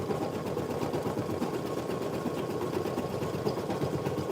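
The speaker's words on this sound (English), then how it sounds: "You can look at that stitch out on my 1 needle machine" A Brother single-needle embroidery machine stitches out a patch, giving a steady, fast mechanical whirr and rapid needle pulse at a moderate, even level with no talking.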